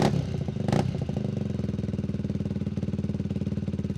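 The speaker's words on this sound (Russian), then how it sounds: "Характерный звук двигателей." Several motorcycles of a bikers' group idle and rev together at a traffic police lot in Naryan-Mar, a steady pulsing engine rumble with a brief louder burst near the start, close and continuous.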